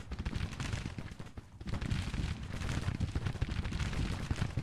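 Long-range musket fire in Grand Tactician: The Civil War crackles as a continuous rolling fusillade of overlapping shots, with a dense, steady, far-off roar that dips briefly and then swells again.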